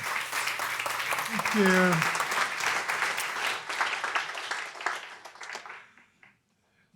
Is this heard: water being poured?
no